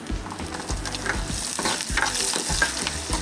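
Cashews, garlic and ginger sauté in a pan with fennel and cumin seeds for a Jaffna-style dates chutney: a close, lively sizzle broken by quick repeated scrapes and stirs of a spoon, with no voices.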